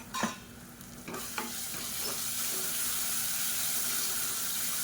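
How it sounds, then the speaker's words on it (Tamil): Chili paste with ginger garlic paste frying in a pan for Ambur-style plain kuska, a steady close sizzle with a few stirring scrapes early on, no talk. "இது நல்லா பச்சை வாசனை போக வதக்கிக்கலாம்"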